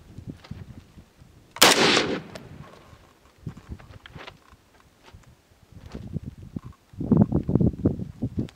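A PTR 91 .308 rifle fired at a far target about 70 yards away outdoors: one sharp, loud crack early on, followed by softer scattered knocks and rustling.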